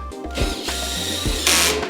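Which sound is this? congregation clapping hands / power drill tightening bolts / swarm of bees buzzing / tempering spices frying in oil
power drill tightening bolts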